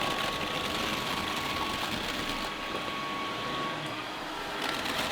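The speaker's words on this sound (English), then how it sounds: "you can just hear that satisfying suction" A Dreame Aero Pro Steam wet-dry vacuum mop with 28,000 Pa of suction picks up a dry mess from a floor, giving a loud, steady motor whoosh with a thin constant whine, unbroken and without talk.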